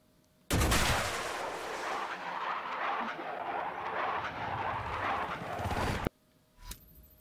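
A TV-guided missile from a video game flying straight in and striking its target: an abrupt loud onset, several seconds of roaring rocket rush, then a sharp cutoff and a faint trailing rumble.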